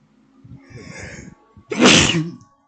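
A single loud, sharp sneeze bursts out after a few seconds of soft, murmuring voices nearby during a casual card game.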